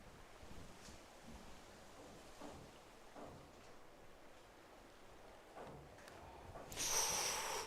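A junior diver's reverse two-and-a-half somersault pike from a 3m springboard ends in a big splash at a diving championship, a brief burst of water near the end after quiet poolside ambience.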